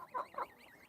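Geese in a backyard flock give two short, nasal honks in quick succession, fairly soft and close, then fall quiet.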